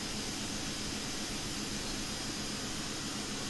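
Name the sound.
in-game Cessna Citation CJ4 engine sound, flight simulator video game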